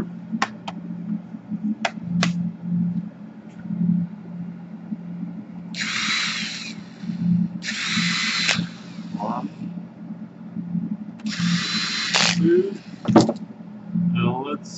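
Power screwdriver removing screws from a Dell Inspiron P39F laptop during a power jack repair, with several short whirring bursts standing out among sparse clicks, low hum and a person talking nearby.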